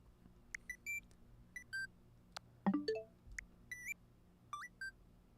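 Nintendo Switch 2 menu navigation sounds: a series of short, clean electronic beeps and chirps, some with quick rising tones, spaced irregularly and close up, with no talking.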